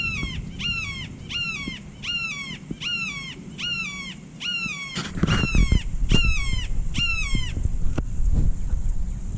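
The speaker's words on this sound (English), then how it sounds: "at the top of this tree up here, there is a red-shouldered hawk" A red-shouldered hawk calls repeatedly from a treetop in loud, descending two-note screams, about ten in a row, with rustling and knocking noises underneath toward the end.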